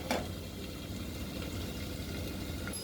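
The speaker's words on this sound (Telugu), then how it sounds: "ఇలా ఉడుకుతుంది కదా, ఒక 5 మినిట్స్ ఇలా మూత వేసేద్దాము." Potatoes and spinach with turmeric bubbling in a covered pan, a steady low simmering burble with a faint lid rattle, close and continuous.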